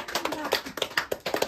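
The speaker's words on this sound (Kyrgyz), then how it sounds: "Урматтуу көрүүчүлөр, кол чаап коебуз" Scattered hand claps from an audience at a family celebration, several distinct slaps over a second and a half with voices murmuring underneath.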